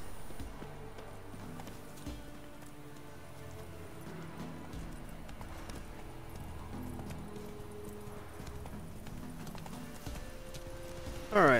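Roach the horse from The Witcher 3 gallops with steady rhythmic hoofbeats, close and continuous under game music, with a brief louder burst at the very end.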